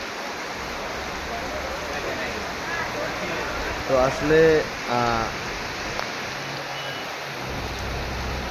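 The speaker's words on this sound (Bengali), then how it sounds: "প্রচুর পরিমাণ বৃষ্টি হচ্ছে আমাদের যশোরে আজ" Heavy rain pours steadily in Jessore as an even, enveloping wash of hiss, while a person speaks briefly partway through.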